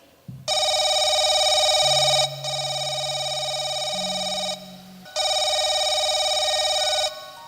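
A telephone rings in long electronic bursts, three rings separated by short pauses, loud and close, with a faint low tone underneath.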